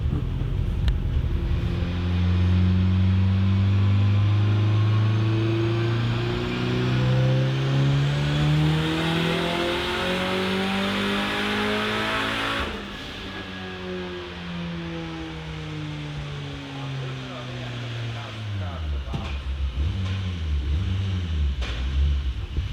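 A Volvo 745 turbo engine is run on a dyno at full boost, revving loudly and continuously with rising and falling harmonic pitch for about twenty seconds, easing off near the end.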